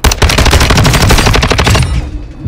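Rapid automatic gunfire from a Call of Duty Warzone solos match, a loud, dense burst of shots lasting about two seconds before cutting off, with no talk.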